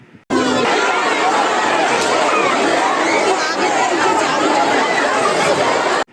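Dense crowd chatter on a packed train heading to Durga Puja festivities, many overlapping voices at a steady loud level throughout with no single speaker standing out.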